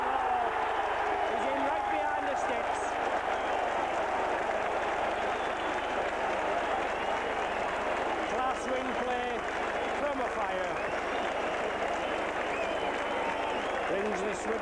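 A large Widnes rugby league crowd at a Lancashire Cup match against St Helens roars steadily in cheers after a try, a dense, sustained wall of noise with a commentator talking over it.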